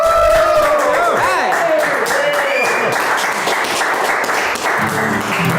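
Live audience applause at a fundraiser concert, a steady wash of clapping with musical tones ringing over it and voices in the crowd.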